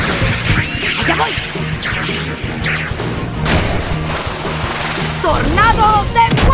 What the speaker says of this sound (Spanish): ¡Tornado de fuego! ¡Menudo disparo!